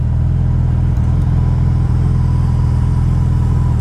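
A Yamaha FJR1300 motorcycle with a five-speed gearbox runs on a test ride, producing a loud, even engine rumble with a steady pulsing throb and no voices.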